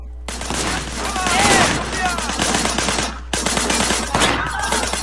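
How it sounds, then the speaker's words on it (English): Sustained automatic gunfire in the Sleeping Dogs action game, a continuous loud crackling barrage with a brief pause partway through before it resumes, shots and ricochet-like whines layered over a low steady hum, with some voice underneath. "Shooting at the guys over there."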